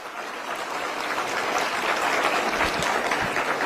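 Loud crowd applause at a public government event with Delhi officials, a dense continuous patter of many hands that builds slightly and holds steady, with a few distinct close claps near the end.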